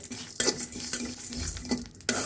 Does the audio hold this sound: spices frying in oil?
yes